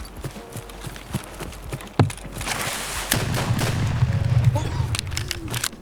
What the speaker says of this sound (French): je lui fonce dessus avec mon fusil à pompe